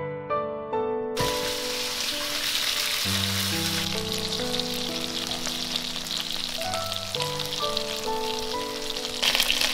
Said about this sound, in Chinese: 然后再把鸡翅放下去煎